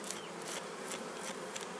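A close, steady buzzing of honey bees swarming at an apiary in early April, a dense continuous drone with faint rising and falling swells.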